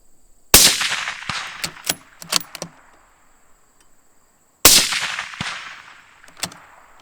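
Two sharp rifle shots with Remington ammunition crack loudly outdoors, the first near the start and the second about four seconds later, each trailed by a ringing echo and scattered clinks between them.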